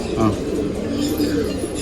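Pigeons coo inside a loft in low, throaty rolling calls that overlap continuously at close range, with a voice talking faintly underneath.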